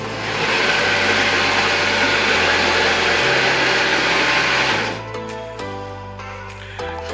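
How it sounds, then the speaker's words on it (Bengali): A Chinese automatic sewing machine stitching a rubber mattress gives a loud, steady mechanical whir and rattle that shifts pitch in steps, then eases to a lighter running hum in the last seconds. "অটোমেটিক মেশিনের মাধ্যমে আমরা এটিকে সেলাই করে থাকি"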